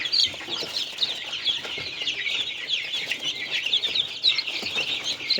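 Chicks and chickens in a warm coop chirp and cluck constantly, a busy chorus of high peeps close by with soft clucks underneath and no voices.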